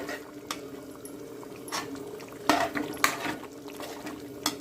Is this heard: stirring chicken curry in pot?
yes